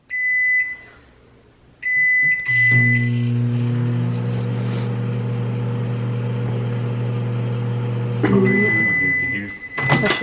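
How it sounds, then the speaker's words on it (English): A microwave oven beeps as its buttons are pressed, then hums loudly with a steady low drone for several seconds before more beeps end the run. "I don't think our microwave does 6 seconds"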